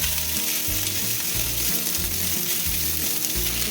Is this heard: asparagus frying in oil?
yes